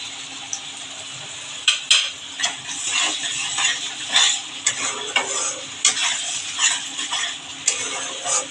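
Tomatoes added to a frying spice mix for a snakehead fish curry with cauliflower, a bright sizzle under repeated sharp clacks of a spoon stirring against the pan, close and fairly loud.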